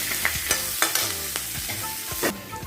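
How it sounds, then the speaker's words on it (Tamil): Chopped onion frying with curry leaves in a pan for a bottle gourd kootu, a loud close sizzle with repeated stirring scrapes and clicks of a spoon against the pan, no talking. "கட் பண்ணி வச்சிருக்க வெங்காயத்தை அதோட சேர்த்துக்கிறேன்"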